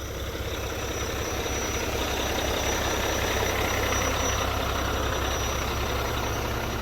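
A Mack Titan dump truck's engine idles in a steady, low, continuous rumble with an even drone and no talk over it.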